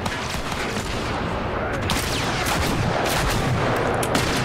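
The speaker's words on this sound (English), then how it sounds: "we're gonna do some pistol sniping." Rapid pistol fire in a shooter video game, a dense run of overlapping shots and impacts filling the whole stretch loudly, with a voice talking faintly underneath.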